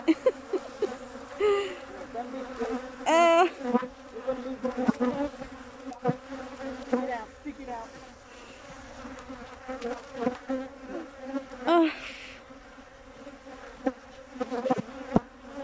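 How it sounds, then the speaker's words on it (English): Angry honey bees buzz around an open hive, a dense droning swarm with individual bees whining close past the microphone in shifting pitches, while voices murmur faintly underneath. "The bees are stinging me."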